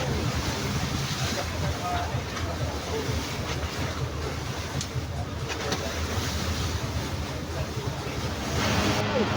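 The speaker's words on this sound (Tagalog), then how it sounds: "Medyo malakas ang alon" Strong sea waves wash and churn against a boat on the way to Dinahican Port, Infanta, a loud continuous roar of water and wind with engine rumble underneath.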